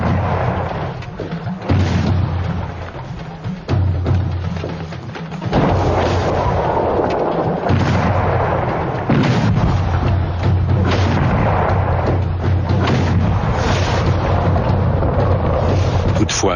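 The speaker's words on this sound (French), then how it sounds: "ils pilonnent Vienne à l'aide de petits canons" Small cannons bombard Vienna during the Ottoman siege: loud repeated booms and rumbling blasts rise over a continuous battle din, with a voice talking over parts of it.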